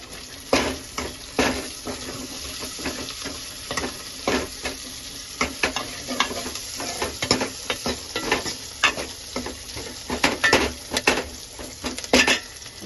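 Whole cumin seeds sizzle in hot oil, a steady crackling fry broken by repeated sharp clinks and scrapes of a utensil against the pan.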